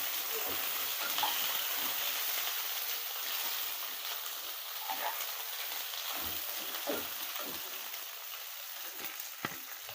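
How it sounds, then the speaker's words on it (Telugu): Okra (ladyfinger) frying uncovered in an open pan, a continuous bright sizzle with faint occasional stirring, steady and close, no talking. "మూత పెట్టకూడదు, ఇలాగే వేపేసుకోవాలి. బెండకాయలు కూడా ఇలా దూరగా వేపేసుకోవాలి."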